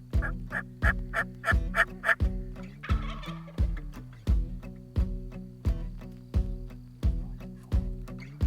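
A wild turkey gobbler in a wooded creek bottom gobbles over and over in a steady, rhythmic series of loud, rattling calls, heard clearly and fairly close with no talking.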